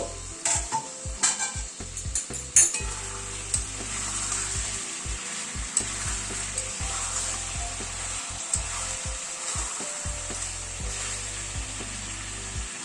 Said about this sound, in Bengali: আরো চার পাঁচ মিনিট মতো চিকেনটাকে কষিয়ে নিলাম